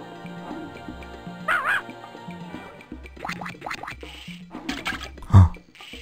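A cartoon dog in the children's game Putt-Putt Saves the Zoo gives short yips and whimpering barks over light game music, ending with a louder thump.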